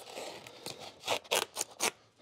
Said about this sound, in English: I'm just gonna cut a relief cut so that I don't have anything interfering in the future